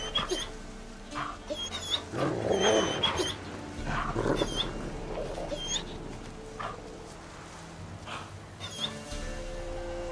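Hounds in The Witcher 3 growl, whimper and give short barks at close range, scattered bursts over game ambience with a few distant voices.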